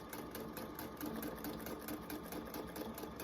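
A sewing machine runs steadily as it stitches thread painting on a fabric collage appliqué, a fast, even mechanical whir with rapid needle ticking, close but faint and without talk.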